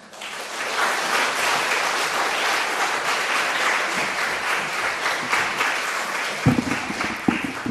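A church congregation claps warmly to welcome the pastor at an afternoon worship service, the applause swelling quickly to a steady, full roar with a few louder claps near the end.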